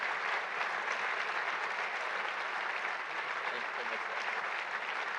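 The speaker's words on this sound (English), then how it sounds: "A big round of applause." Steady, dense applause from a large audience, continuous and fairly loud throughout with no break.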